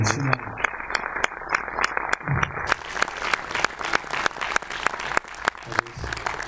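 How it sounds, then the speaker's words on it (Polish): Audience clapping at a neighborhood community event in Poland, a steady rhythmic patter of hands heard up close and mixed with voices talking over it. "jeżeli mogę Państwa poprosić o oklaski"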